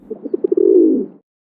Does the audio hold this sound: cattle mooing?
no